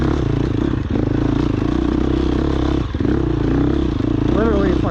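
A 2022 Husqvarna FX 350 four-stroke off-road motorcycle idles with a loud, steady, close engine drone, briefly dipping twice, with a short rising rev near the end.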